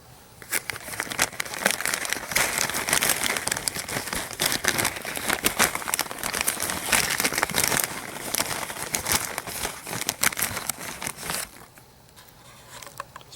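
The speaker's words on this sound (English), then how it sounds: "So I'm just gonna cut a few stems off this and shake them off into the bag." Seed stems of Bright Lights chard shaken into a bag make a close, continuous crinkling rustle with dense pattering for about eleven seconds, then fade to quiet; no one speaks.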